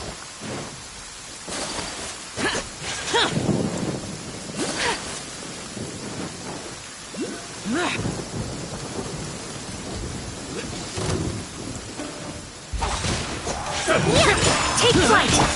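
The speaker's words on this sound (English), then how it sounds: "Let us find shelter from the rain." Steady rain pours while thunder rumbles and cracks in the video game Genshin Impact, with loud rolling booms, a swelling downpour near the end, and voiced character dialogue in between.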